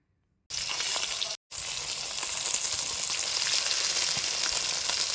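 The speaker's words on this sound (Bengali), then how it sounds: "এবার এর মধ্যে মাছগুলো দিয়ে দিলাম, দিয়ে ভালো করে মাছগুলো কড়াইয়ের চারিদিকে ছড়িয়ে দেব, যাতে প্রত্যেকটি মাছ ভালোভাবে ভেজে নেওয়া যায়।" Amudi (ruli) fish frying in hot oil in a kadai gives a loud, steady, hissing sizzle. It starts abruptly, breaks off briefly, then continues without talk.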